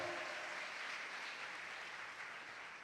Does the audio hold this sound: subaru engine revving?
no